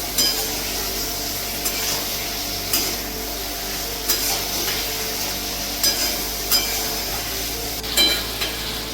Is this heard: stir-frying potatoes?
yes